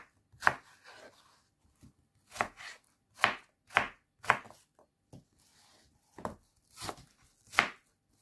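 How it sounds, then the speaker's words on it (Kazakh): A knife chops fruit for a fruit salad on a cutting board, giving about ten distinct, fairly loud cuts at an uneven pace, with no voices. "Осылай 4-5-ті 4-5 топ турап аламыз."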